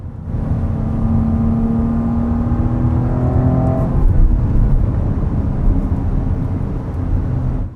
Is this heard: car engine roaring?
yes